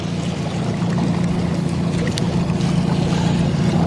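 A boat's outboard motor drones steadily in gear while trolling for trout on Lake Camanche, a loud, continuous low hum with water wash, close by and with no voices over it.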